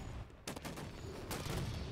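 Video game gunfire: two short, sharp bursts of shots about a second apart, fairly quiet against a low background rumble.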